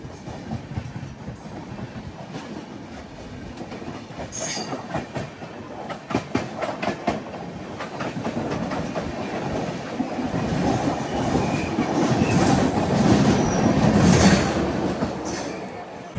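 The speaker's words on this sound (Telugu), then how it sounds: "మనం రాజమండ్రి రైల్వే స్టేషన్కి ఎంటర్ అవుతూనే మనకొక క్రాసింగ్ అనమాట new Tinsukia express super fast express" A passenger express train crosses at Rajahmundry railway station, its wheels clacking rhythmically over rail joints and occasionally squealing, growing louder and nearer toward the end.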